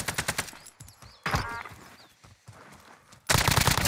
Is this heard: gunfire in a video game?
yes